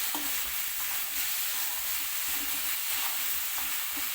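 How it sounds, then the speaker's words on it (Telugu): Green chillies frying in a pan for vegetable rice, a continuous soft sizzle and hiss with faint stirring scrapes, close and even, no voices. "మంచిగా వేగుతున్నాయి."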